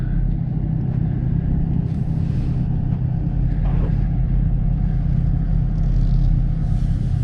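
Cars drive around a city block in Binghamton, New York, a steady low rumble of road traffic with engines passing nearby, continuous throughout.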